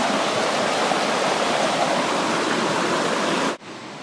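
Floodwater after a hurricane rushes steadily through a brook on a farm, a loud, close, continuous roar of churning water that cuts off abruptly near the end.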